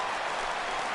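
Baseball crowd at a Phillies–Mets game reacting to a fly ball, a brief distant wash of crowd noise and scattered clapping.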